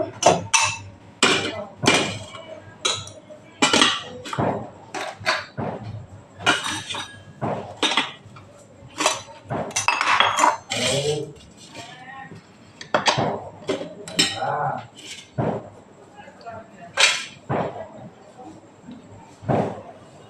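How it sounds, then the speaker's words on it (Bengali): Plates and dishes clink and knock repeatedly as they are taken out to serve tea, irregular sharp taps close by, with occasional background voices. "এখন আমি প্লেট পেরে নিচ্ছি চা সার্ভিস করার জন্য।"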